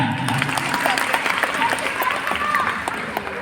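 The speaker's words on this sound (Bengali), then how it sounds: "প্লিজ সুস্মিতার জন্য একটু জোরে হাততালি হয়ে যায়" Audience applause at a seminar for makeup artists in Kolkata, a dense steady patter of many hands clapping nearby for several seconds with a faint voice or two underneath.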